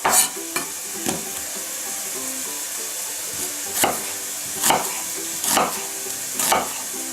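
Beef chunks browning in a hot pan for sloppy joes give a steady close sizzle, broken every second or so by the scrape and clatter of a stirring utensil.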